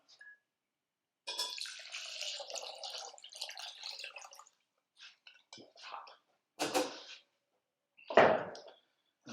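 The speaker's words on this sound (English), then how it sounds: "And then we're going to pour hot water onto them." Hot water poured over dried limes poked with holes, heard as a few separate splashing, gurgling bursts with silent gaps between them, close by and without voices.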